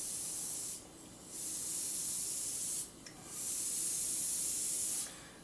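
An airbrush sprays paint in close, soft hissing bursts, with three sustained sprays separated by brief pauses.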